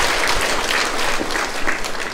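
A congregation at a Catholic novena Mass for Saint Anthony claps together in welcome, a brief, dense burst of many hands, loud and close, with no voices above it.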